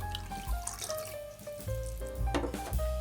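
Warm water runs from a kitchen tap into a measuring cup holding vegetable oil, a close, steady gurgling pour with rising tones and small splashes.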